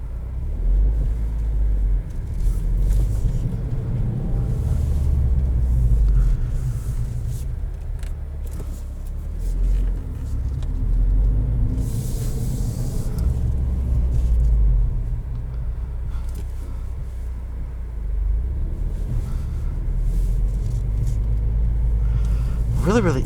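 A 2020 Subaru WRX with manual gearbox rolls over a bump, its low road rumble and cabin drone steady throughout with a few thumps from the suspension; no one speaks.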